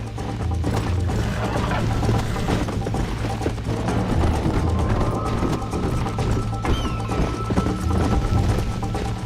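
Horse hooves gallop in Red Dead Redemption, a loud, continuous drumming clip-clop with the creak and jingle of tack over a steady low rumble, no voices present.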